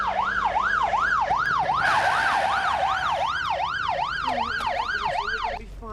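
An ambulance siren wails in a loud, steady up-and-down sweep that repeats about twice a second, close by and dominant, then cuts off near the end with no talk over it.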